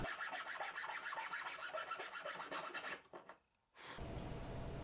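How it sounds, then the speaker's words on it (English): Steady rasping strokes of a chainsaw file against walnut, close and continuous, briefly pausing near the end before the scraping resumes. "I'm just using a chainsaw file."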